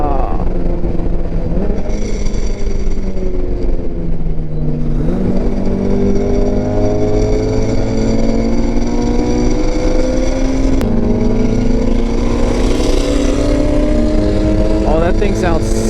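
A race car accelerating hard around the Road Atlanta circuit during a NASA Southeast event: a loud, continuous engine note rising through the gears, with people talking over it throughout.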